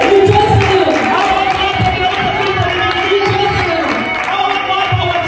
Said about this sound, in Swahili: Unaweza kuleta vigelegele kidogo.